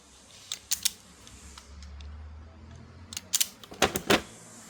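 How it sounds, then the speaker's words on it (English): Speaker wire ends are stripped during a Toyota Hilux speaker install, with a few sharp close snips and clicks from the cutters in small clusters, over a low background hum. "I'm just going to strip them back a little bit."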